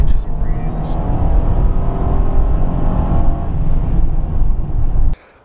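Interior engine sound of a 2014 Honda Pilot AWD accelerating through smooth gear changes, a steady loud drone with rising harmonic tones that cuts off abruptly near the end, with talking over it.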